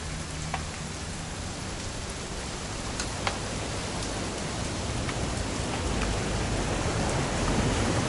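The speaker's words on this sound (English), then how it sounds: "It's gonna rain the whole weekend" Rain pours continuously in an even, hissing wash, with a few sharper drips standing out and the downpour growing slightly louder toward the end; no one speaks.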